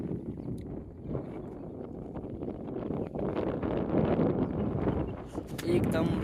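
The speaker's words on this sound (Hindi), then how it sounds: "बाहर आप देख सकते हैं कि कैसी हवा चल रही है।" Strong outdoor wind buffets and roars across the microphone in a steady, gusty rush, with a voice talking over it throughout.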